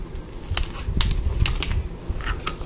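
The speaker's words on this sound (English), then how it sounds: "you're going to get out a piece of Velcro. And I'm just going to cut a strip off" Scissors snip through a strip of Velcro in several sharp, crisp cuts spaced about half a second apart, close and fairly loud over a low room rumble, with no talking.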